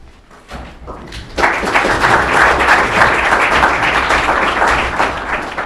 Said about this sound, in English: I'm sure that applause was for Professor Sharp and not me